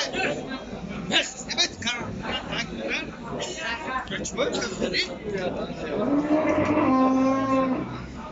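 Cattle mooing at a livestock market in Vakhsh, where dairy cows, bulls and calves are traded, with a long, loud low moo rising near the end over a steady hubbub of crowd chatter and voices.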